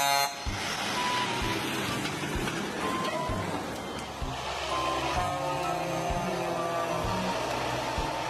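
In an animated scene, lorries rumble past on a road, with engine drone, a horn blast and beeping heard over a busy, continuous traffic din.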